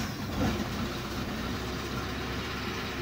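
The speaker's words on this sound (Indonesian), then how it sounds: "Kita coba hidupkan mesinnya dulu." A Nissan X-Trail T30 automatic with a hard-starting engine and a check-engine light runs at idle, a steady low rumble close by with no talk.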